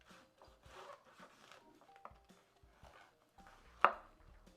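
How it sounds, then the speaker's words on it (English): Knife cuts through the top of an artichoke with a series of faint crisp chops and rubbing crunches, ending in one sharper louder cut near the end, heard close up in a quiet kitchen. "a lot of people will just take and cut through the top"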